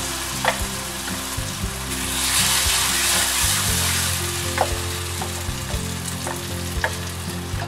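Ground rice batter stirred in a pan on a stove over low heat: a steady close sizzle with repeated scraping stir strokes, loud and continuous. No one speaks.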